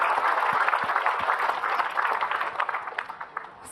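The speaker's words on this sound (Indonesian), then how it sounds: "Tepuk tangan dong buat Kak Nabila." Studio audience at an Islamic TV talk show applauds a guest speaker, a dense steady wash of clapping across the whole stretch, fairly loud and close, fading slightly toward the end with no talking over it.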